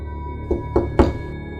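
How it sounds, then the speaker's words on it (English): Three soft knocks on the side door of a villa, spaced close together, the last one slightly louder, near and alone against a quiet background. "I whispered while tapping on the side door of his villa."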